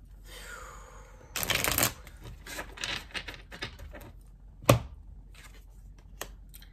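Tarot cards shuffled for a reading, a rapid, close riffle burst followed by scattered lighter card taps and slaps and one sharp snap, with quiet stretches in between and no talking.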